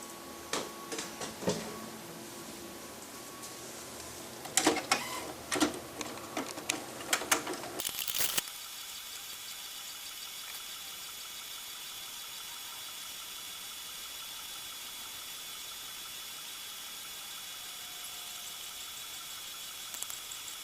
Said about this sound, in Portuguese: Então eu vou clicar em imprimir e aguardar a impressão.